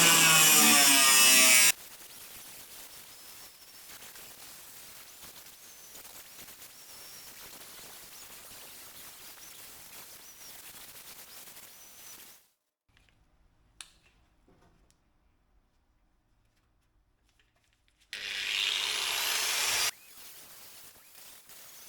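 Rusty inner wheel arch of a Ford Escort Mk2 rally car being cut out along a marked strip, a long steady rasping cut running alone for about ten seconds, bracketed by louder harsh bursts at the start and end.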